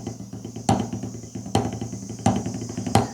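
Drumsticks play a paradiddle with two extra diddles added after the rudiment. Rapid, even strokes run steadily, with regular louder accents cutting through, close and dry. No one speaks.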